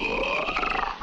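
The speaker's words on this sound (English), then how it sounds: "Please don't roar at me." A cartoon lion lets out a brief, throaty roar, loud and close, rumbling for about a second before cutting off.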